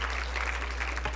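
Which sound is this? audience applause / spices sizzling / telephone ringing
audience applause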